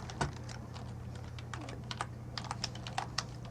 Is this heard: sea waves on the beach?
no